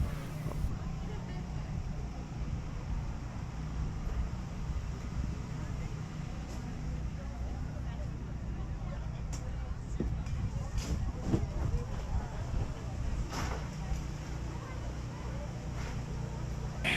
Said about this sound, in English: you can hear the sound of generators starting to increase